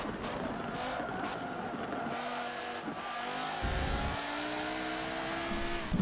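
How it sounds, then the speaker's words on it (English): A race car in Forza Motorsport 7 at Silverstone brakes and feathers the throttle through a corner, its engine note falling, rising and shifting in pitch, loud and close with no talk. "Braking into turn 7, feathering the throttle just to make the car rotate a little bit more so I don't go over on the exit"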